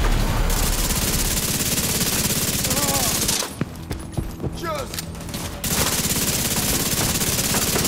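Hostile assault turret in the video game The Division 2 firing sustained bursts of automatic gunfire, dense and loud, with a short lull midway where sharper individual shots and game sounds come through.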